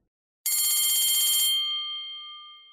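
A telephone bell rings loudly in one sustained electronic burst, then the tone holds and slowly fades, heard alone without voices.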